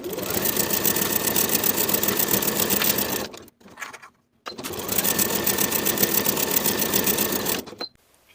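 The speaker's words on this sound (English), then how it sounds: "Sew both seams with a 3/8 inch seam allowance and press the seams open." A sewing machine runs steadily while stitching the shoulder seams of a turtleneck sweater, two long continuous bursts of motor hum and needle clatter separated by a short pause, close and alone with no talking.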